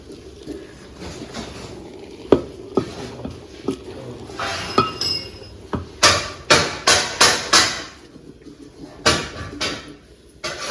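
Mustard greens saag with maize flour being stirred in a pot over a clay chulha, producing irregular knocks and clinks that build into a quick run of sharp, close strikes toward the end, with no talking.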